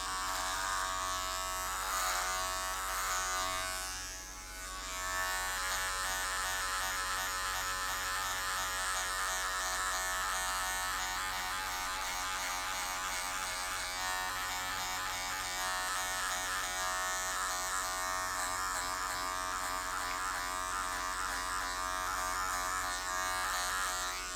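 An electric hair clipper with a 6 mm guard runs while cutting hair during a skin fade haircut. It makes a close, steady buzzing hum that continues for the whole stretch with no voices.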